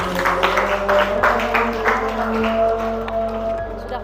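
A classroom group gives a dense, steady round of applause for another group's response, the clapping patter filling the room evenly over a low steady hum.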